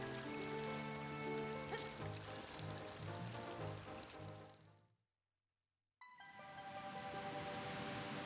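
In the Ocarina of Time video game, a waterfall parts as a melodic song plays, giving way to a rushing water splash; the sound cuts to silence for a second, then the steady cascade returns.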